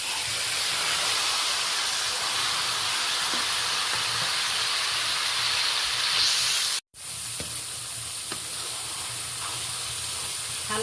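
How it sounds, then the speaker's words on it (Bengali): Spice-marinated Bombay duck (lote fish) hits a hot wok with a loud, continuous sizzling hiss. The sizzle cuts off for a moment, then carries on a little softer. "সমস্ত মশলা মাখিয়ে রাখা লোটে মাছটা কড়াইয়ের মধ্যে দিয়ে দিলাম"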